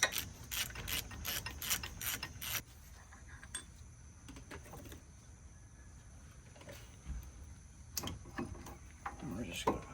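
Ratchet clicking while removing 18 mm brake caliper bolts on a lifted truck, a quick series of sharp ratcheting bursts up close, then a quieter stretch of shop noise with a few scattered clicks and more ratcheting near the end.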